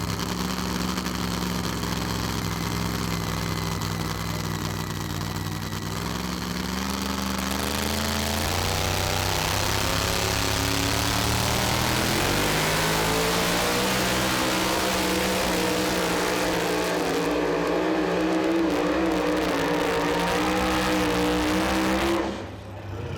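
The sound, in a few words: pulling truck engine revving at a truck and tractor pull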